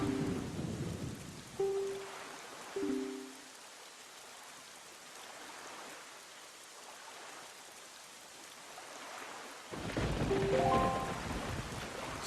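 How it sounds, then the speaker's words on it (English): Rain and a thunderstorm in The Legend of Zelda: Wind Waker HD, steady rainfall hissing under long rolling thunder rumbles, with short game music chimes at the start and end. "Certainly is a rainy day right now."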